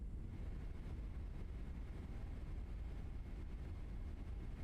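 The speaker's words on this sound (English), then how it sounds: "Now listen to these engines." Boeing 777 engines in a flight simulator, a low, steady broadband rumble with a faint higher whine, constant and fairly quiet with no talking.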